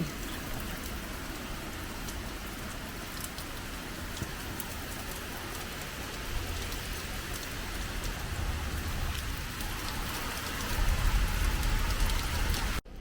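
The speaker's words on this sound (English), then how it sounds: "it just started to downpour" A heavy downpour roars steadily and densely, growing slightly louder toward the end, with no talking.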